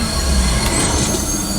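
Simulated train sound on a Star Wars Galaxy's Edge ride at Walt Disney World, a loud continuous rumble with squealing metallic wheel screech, close and steady throughout.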